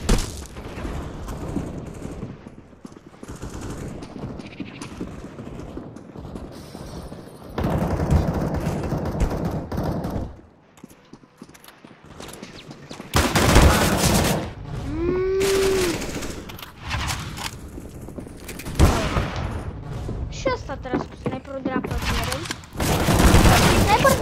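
Counter-Strike: Global Offensive gunfire from a sniper rifle at close range, loud sharp shots and bursts amid game effects, with a voice talking over much of it.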